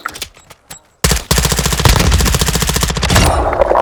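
Rapid automatic gunfire in Call of Duty: Modern Warfare II, a few sparse shots at first, then a loud, dense, sustained burst of machine-gun fire from about a second in to the end.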